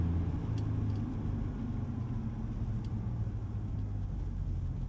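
A Ford Ranger Raptor engine at a red light, braking, with a low steady rumble and faint mid-range engine hum that stays fairly quiet and even under the cabin.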